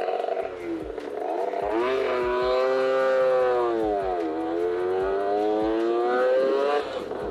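A small motorcycle engine strains uphill on a tea plantation road, its revs rising and sagging in a loud, nasal whine that holds close throughout.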